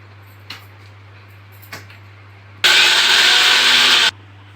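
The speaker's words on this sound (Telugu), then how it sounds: "మిక్సీ గ్రైండ్ చేసుకోవాలండి" Mixer grinder blending onions and ginger, a loud steady whir lasting about a second and a half after two light clicks, close and alone.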